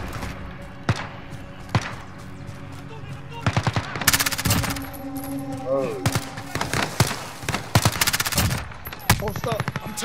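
In a co-op Head Hunter video game, bursts of automatic gunfire and sharp single shots crackle around the player, some close and loud, with speech mixed in between the volleys.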